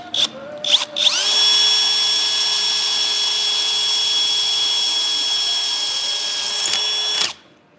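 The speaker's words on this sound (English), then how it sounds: "So these are going to be 1/4 inch holes on this side." A power drill bores a quarter-inch hole in a 1961 Ford P100 front speaker pod, revving up to a steady, loud whine for about six seconds before cutting off sharply, with a few brief clicks and bursts before it starts.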